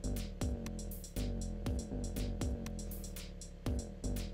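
A synth sub bass patch built in Serum plays deep, sustained notes. Each note starts with a pitch-dropping attack and repeats in a steady rhythm, heard alone with no talking.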